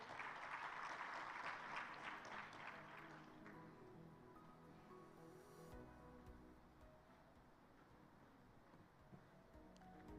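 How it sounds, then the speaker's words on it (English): An audience claps, strongest at first, then the applause thins and fades over the following seconds. "A round of applause as he makes his way."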